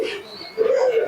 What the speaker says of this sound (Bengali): খুবই সুন্দর কোয়ালিটির কবুতর রয়েছে